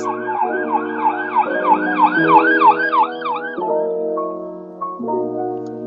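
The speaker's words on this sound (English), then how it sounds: "You may have noticed the change in pitch of the siren as it passes by you." An ambulance siren wails in rapid rising-falling sweeps, loud and close, then drops in pitch as it passes and settles into a lower steady tone.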